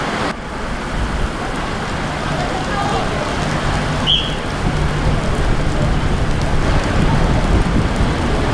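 Heavy monsoon rain on the Konkan railway route between Khed and Dadar, a loud, steady wash of rain with a constant rumble beneath it and no clear voices.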